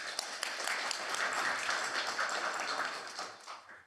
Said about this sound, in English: If we could have a round of applause for him